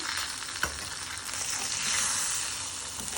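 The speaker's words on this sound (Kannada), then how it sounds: "ಸೊ ಈಗ ಚೆನ್ನಾಗಿ ಫ್ರೈ ಮಾಡಿದ್ರೆ ನಮ್ಮ ಗೀ ಪುಡಿ ಇಡ್ಲಿ ರೆಡಿ ಆಗೋಗುತ್ತೆ" Ghee podi idli fry in a pan with a loud, continuous crackling sizzle, and one brief clack of a utensil early on.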